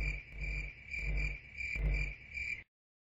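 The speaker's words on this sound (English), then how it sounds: "This is the sound of 375 crickets." A dense, steady chorus of crickets chirps in pulsing waves, a shrill continuous trill that swells three times before cutting off abruptly.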